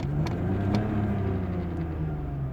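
A car running on LPG idles while stopped, a steady low engine rumble with a couple of faint clicks near the start, close and continuous.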